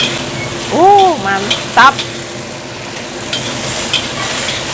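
Mushrooms and pork feet stir-fry in a pan with a steady, loud sizzle and scraping strokes of a spatula, while a voice speaks briefly over the cooking.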